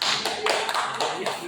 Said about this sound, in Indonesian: Tepuk tangan untuk Pak Tri